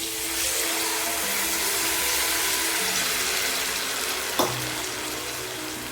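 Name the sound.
tamarind water sizzling in frying pan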